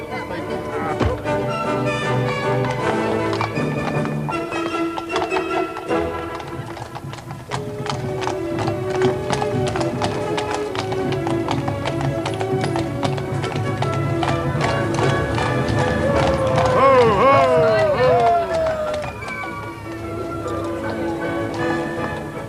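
Horse hooves clip-clop steadily on pavement as a horse-drawn carriage carries grooms through a medieval Dutch canal town, the rhythmic clopping continuous and fairly close under a voice and ambient crowd noise.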